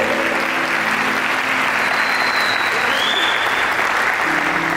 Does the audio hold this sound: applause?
yes